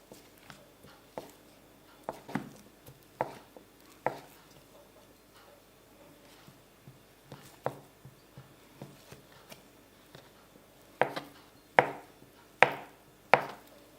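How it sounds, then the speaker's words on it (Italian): Knife dicing 225 grams of cold butter into cubes on a cutting board, a series of crisp close chops in an irregular rhythm, growing louder and sharper toward the end, with no talking. "Per prima cosa taglio il burro freddo a dadini, questi sono 225 grammi."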